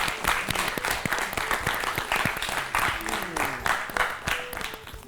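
A studio audience at a children's classroom quiz show claps loudly, a steady broadband patter of many hands lasting throughout, with a voice speaking over it.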